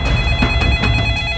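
Telephone ringing in a dramatized police-call scene: a steady electronic ring with sharp repeating pulses, loud and continuous, with no talk over it.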